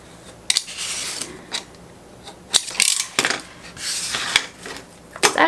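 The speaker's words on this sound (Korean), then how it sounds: "저는 칼이 있으니까 칼로" A knife slices through a folded paper envelope in a series of sharp, scraping strokes and crisp crackles, close and fairly loud, separated by short pauses.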